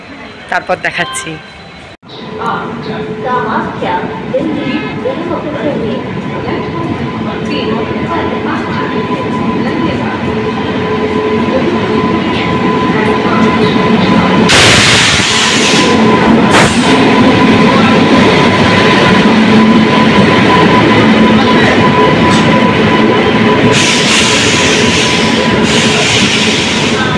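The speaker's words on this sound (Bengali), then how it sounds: "তো আসুক ট্রেন," Howrah–Saraighat Express pulling into a rainy station in Assam, a loud, steady rumble of the arriving train building and continuing for nearly half a minute, with a brief word spoken over it.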